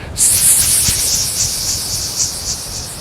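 A steady, sustained hissing exhale like a long "sss" breath during a qigong breathing exercise, close and fairly loud, running unbroken for about three seconds.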